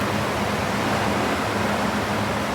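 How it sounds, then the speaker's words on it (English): Sea waves surge and wash around a kayak among rocks near sea caves in Barkley Sound, a steady, close, broadband rush of churning water with no pause or talk. "Oops, and a big wave coming in, surfing on that one."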